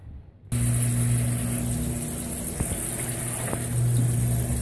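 A fully loaded Consul 16 kg washing machine drains its water with a steady pump hum and low rushing flow. It starts abruptly after a moment of near silence and carries on unchanged, with faint clicks.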